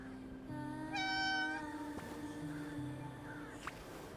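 A cat meows once, clear and drawn out, in the video game Infinity Nikki, set over faint ambient game music with a few soft clicks.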